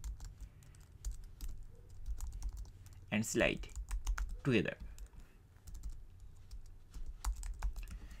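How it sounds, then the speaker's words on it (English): Rapid clicking keystrokes on a computer keyboard while a search is typed into Google, soft and close, with someone talking over part of it. "Once we are in the google.com, then we have to start typing Bright"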